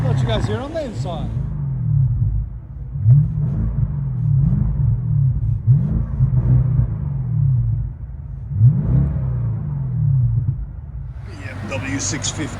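Inside a 2015 BMW 650i V8 with muffler delete, the engine drones and swells through several revs and pulls. The cabin sound is loud and low, and a brief higher burst comes at the start and end.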